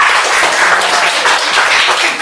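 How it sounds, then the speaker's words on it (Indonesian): Applause from a classroom audience for the second group's presentation: a steady, dense wash of clapping hands, fairly loud and continuous throughout, with no voices over it. "tepuk tangan untuk kelompok 2"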